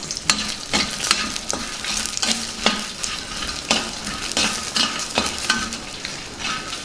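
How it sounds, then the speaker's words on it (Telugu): Phool makhana (fox nuts) frying in oil for a traditional Telugu potato curry, with a steady sizzle broken by regular scraping stirs of a spoon against the pan, close and clear with no talking. "కొద్దిగా నూనె వేసుకుందాం ఇందులో పూల్ మకానీ వేసి వేయించుకుందాం కొద్దిగా దోరగా వేయించుకుందాం"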